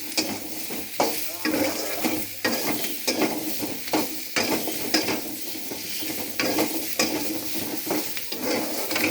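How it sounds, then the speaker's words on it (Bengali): Turmeric is stirred into a fish curry with potato and papaya in a pan, giving a steady close sizzle of frying broken by regular scraping strokes of a utensil against the pan, with no talk. "বন্ধুরা দেখো হলুদ গুঁড়োটা দিয়ে আমি একটু নাড়াচাড়া করে নেব।"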